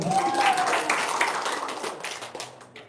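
A burst of audience applause, scattered clapping that starts strong and tapers off within a few seconds.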